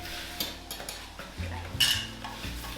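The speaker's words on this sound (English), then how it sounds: "we're gonna do is just mix in the dry ingredients into the wet ingredients" Dry ingredients being stirred into wet ingredients in a bowl make soft, close scraping and mixing sounds, with a few light clinks of a utensil against the bowl.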